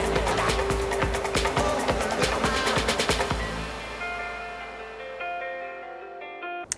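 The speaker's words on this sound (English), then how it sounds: "Non-beat match transitions sound like this." Two music tracks overlap in a DJ transition without beat-matching: a dense percussive track with strong regular hits fades out after about three seconds while a second sustained melodic track takes over, loud throughout with no talk.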